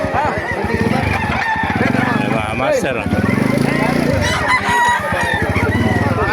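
Chickens and roosters crow and cluck repeatedly at a poultry market in Baliwag, Bulacan, loud and close, with people talking over the birds throughout.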